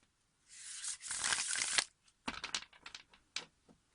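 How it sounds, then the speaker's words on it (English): A close, crisp riffle of cards lasting about a second, followed by several shorter flicks and taps of cards being squared and handled. "do some shuffling here"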